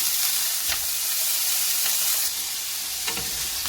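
Anchovies fry in hot oil as a loud, continuous hiss of sizzling with a few brief spatters, and no voices.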